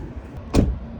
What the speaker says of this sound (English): Right when this car passes